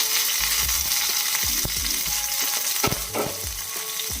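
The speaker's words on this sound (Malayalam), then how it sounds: "ഞാൻ അതിനായിട്ട് ഒരു സ്പൂൺ ഓയിൽ ഒഴിച്ചിട്ട് കുറച്ച് രണ്ട് മുളക് ഇട്ടിട്ടുണ്ട് ഇനിയിപ്പോൾ അര ടീസ്പൂൺ കടി ഇട്ട് കൊടുക്കാം" Dried red chillies and mustard seeds sizzle hard in a spoonful of hot oil, a steady close crackle broken by bursts of popping and stirring.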